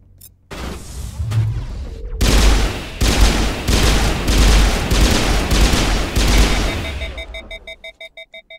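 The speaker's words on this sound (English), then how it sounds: "this pistol shoots very different" A pistol firing in Mass Effect Legendary Edition, loud crackling bursts in quick succession after a brief sharp shot, running for several seconds before tailing off into fading repeated echoes.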